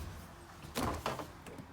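A pantry door in the kitchen of a 2020 Forest River Rockwood Ultra Lite 2898KS fifth-wheel RV opens with a short, soft slide and clunk heard up close, followed by a faint second knock.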